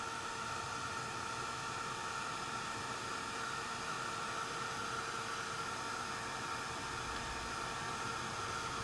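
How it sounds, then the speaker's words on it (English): A heat tool blows a steady, even whoosh of hot air over pigment ink stamped on paper, continuous and close with no pauses. "I am going to do a quick heat set just so it doesn't smear"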